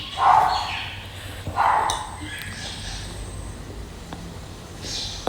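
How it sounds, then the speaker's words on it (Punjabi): Dogs bark in short, sharp bursts close by, two clear barks early on followed by fainter yips, with a quieter outdoor hum in between. "ਜਦੋਂ ਭੌਂਕਦੇ ਫੇਰ ਨਹੀਂ ਵਧੀਆ ਲੱਗਦੇ"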